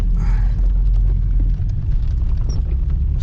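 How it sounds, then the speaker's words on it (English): Heavy rain drumming steadily on the roof and body of a car, heard from inside the cabin as a dense, continuous low roar with a constant loud wash and no pauses. "Oh, rain's so heavy."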